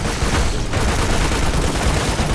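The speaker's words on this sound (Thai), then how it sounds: "หินถล่มเป็นอย่างนี้เลยนะ" Rockslide in the video game Lost Planet: Extreme Condition, set on a snowy mountain range: a dense, loud, continuous rumbling crash of tumbling rock that fills the whole stretch with steady booming noise.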